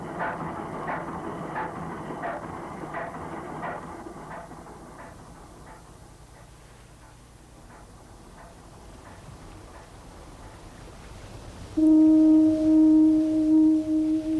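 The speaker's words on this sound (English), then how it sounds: "Huge boilers were hoisted onto the beach to fuel the foghorns." A steam-powered lighthouse foghorn sounds a loud, steady low tone that comes in abruptly near the end, after a long stretch of dull rumbling and faint rhythmic clanking.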